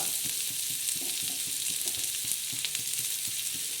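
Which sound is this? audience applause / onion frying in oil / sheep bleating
onion frying in oil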